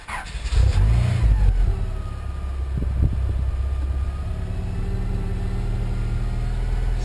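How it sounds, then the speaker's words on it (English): A Honda car engine cranks and catches after an ECU swap, then revs up and settles into a steady, fairly loud running drone close by, with no talk over it. "me trying to start the car right now to see if this ECU works"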